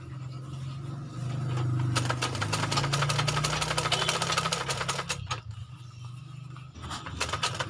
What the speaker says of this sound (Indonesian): Kalau didengar dari suara mesin jahitnya, kayaknya ini mesin udah kena stangnya ya.